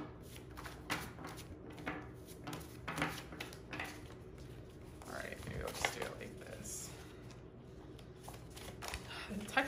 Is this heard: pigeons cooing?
no